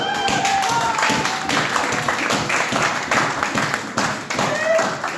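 Church congregation clapping steadily to acclaim the Lord during a Sunday service, a dense, continuous patter of many hands close by, mixed with voices.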